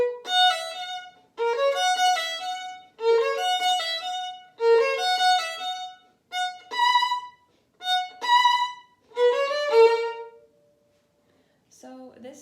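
A lone violin plays a Vivaldi tutti passage in short bowed phrases separated by brief gaps, bright and close, with no talking.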